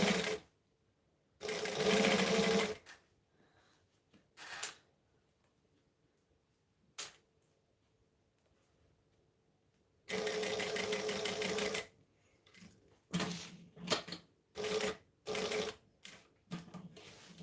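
A domestic sewing machine runs in short bursts of fast, rattling stitching with quieter gaps, then a series of quick stop-start runs for backstitching, heard up close.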